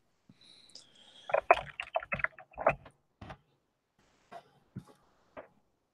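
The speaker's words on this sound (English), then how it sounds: "your typing rhythm amazes me" Typing on a computer keyboard, a close burst of rapid irregular key clicks followed by a few sparser taps, crisp and alone against silence.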